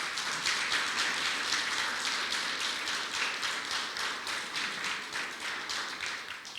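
A church congregation applauding, a dense steady wash of clapping that holds throughout, fading slightly toward the end.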